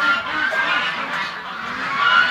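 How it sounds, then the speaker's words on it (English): Canada geese honk loudly and almost without pause at close range, their harsh calls overlapping into a dense, steady chorus. "let's go and take a look at the Canada geese"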